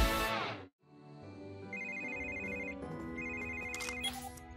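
A phone rings in the PAW Patrol cartoon, a bright repeating electronic ringtone sounding in short bursts over light background music after a brief gap.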